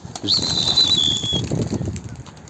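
A short burst of wings flapping as a pigeon takes off from a coop, with a thin whistling tone above and faint background noise.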